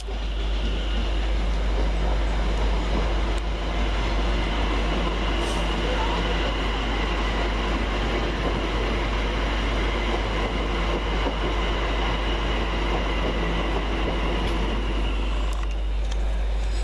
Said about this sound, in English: arriving with the 1825 London Overground service from London Liverpool Street to Chingford.